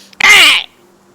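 A bird in a video game lets out a single harsh, rasping caw lasting about half a second, loud and close, with no talk over it.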